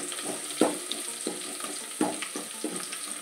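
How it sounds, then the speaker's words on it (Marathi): Two to four crushed garlic cloves dropped into a hot cumin and mustard seed tempering and stirred, giving a steady sizzle and crackle broken by soft scraping strokes of the spoon at a close distance, with no voices. "आणि याला थोडंसं हलवून घेऊ।"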